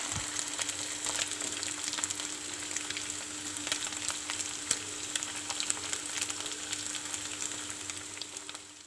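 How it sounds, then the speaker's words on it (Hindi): Potatoes for dahi aloo sizzle and fry in a pan with a steady, close crackling hiss throughout, low in level and free of talk. "हम इन्हें हल्का सा गोल्डन कलर आने तक फ्राई करेंगे।"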